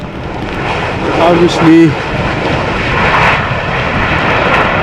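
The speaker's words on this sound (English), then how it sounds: "737 from KLM coming in from Berlin. Another high-speed passage." A KLM Boeing 737 arriving from Berlin rolls past at high speed at Amsterdam Schiphol Airport, its loud, close jet roar swelling and fading while someone talks over it.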